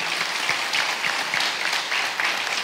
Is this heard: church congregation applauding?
yes